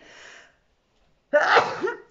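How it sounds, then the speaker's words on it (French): A woman at home in the countryside gives a loud, close sneeze after a short sharp intake of breath, a single burst with no talk. "moi aussi j'éternue"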